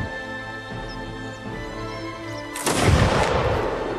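Musket fire in a video game line battle: a sustained droning hum of game ambience, then a sudden loud crackling volley of shots near the end that rolls on and slowly fades.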